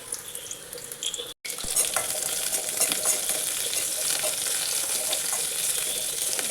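Onions, curry leaves and green chilies sizzle steadily in a pan for a coconut-milk moru curry, a dense, continuous close-up frying hiss with a brief cut near the start and no talking.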